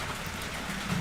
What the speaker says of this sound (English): It's raining here and there's nothing I can do about that because I'm not the creator of the universe.